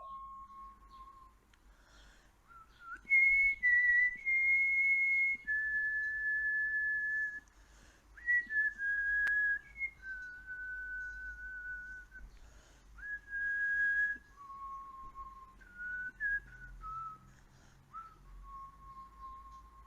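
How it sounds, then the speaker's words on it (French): A strange, tender whistled melody of long sustained pure notes that glide slowly between pitches, clear and alone over a quiet low rumble, with short pauses between phrases. "C'est un étrange sifflement, tendre et harmonieux, qui envoûte et charme peu à peu les spectateurs."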